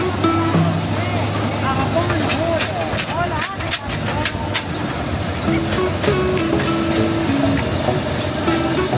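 Old train on a farm ride, rumbling steadily with clattering wheels and scattered clanks, with a continuous low engine hum under occasional voices.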